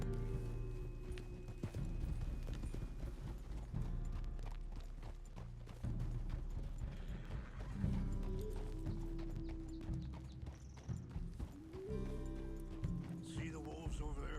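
Horse hooves clip-clop steadily during a ride in the video game Red Dead Redemption 2, with occasional snorts and tack sounds. The hoofbeats run at a walking rhythm under speech and background score.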